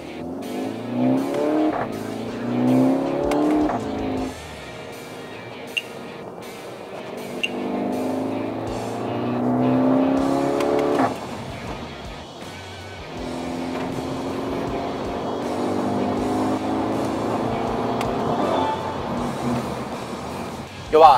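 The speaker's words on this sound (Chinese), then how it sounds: "实测看看它的中尾段在高转速换挡的情况下的声音" A 2018 Skoda Octavia Combi RS 2.0 TSI with a modified exhaust revs hard through high-rpm gear shifts, engine note climbing and dropping with each change, heard from inside the car while people talk over it.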